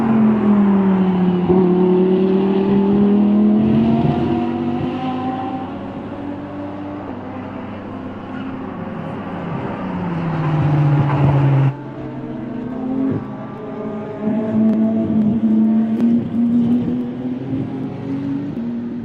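An Audi GT race car at Autodrom Most in a GT Cup sprint race roars loudly as it passes. The engine pitch rises and falls with gear changes, and another car sweeps by later.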